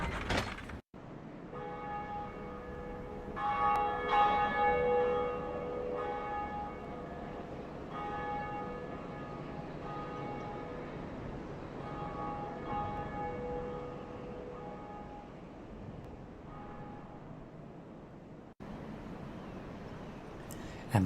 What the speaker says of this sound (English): And with that, the first bell is rung.